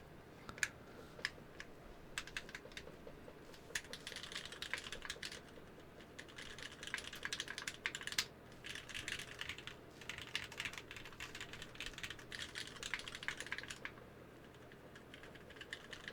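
Steady typing on a mechanical keyboard still being broken in, with a Duck Viper board mentioned, producing rapid clacking keystrokes in irregular bursts and short pauses, fairly close and alone without talk.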